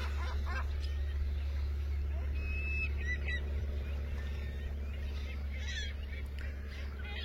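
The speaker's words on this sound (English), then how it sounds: "You can see the thousands of birds out there as far as the eye can see." Geese honk across a flock of thousands of birds spread wide over open ground, a faint, distant chorus of calls and scattered honks carried over a steady low wind rumble.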